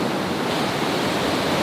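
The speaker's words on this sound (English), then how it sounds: "I've never seen waves like this in Cebu before" Rough ocean waves off Cebu in the Philippines, a loud, continuous roar of surf and wind-blown water with no break across the short stretch and no voices.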